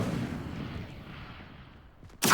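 Incendio fire spell cast in the Hogwarts Legacy video game, a deep rumbling whoosh that fades over about two seconds, then a sudden bright crackling burst at the end.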